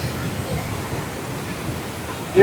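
Roaring water at Niagara Falls' Cave of the Winds, a steady, dense broadband rush that stays loud and unbroken throughout, with a brief sharper burst at the very end.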